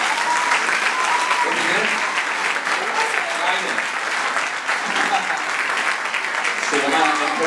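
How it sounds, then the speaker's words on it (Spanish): Steady applause from an audience at a sixth-grade Christmas play at a school in Benicalap, dense clapping filling the room throughout with a few voices murmuring underneath. "Entonces damos un aplauso"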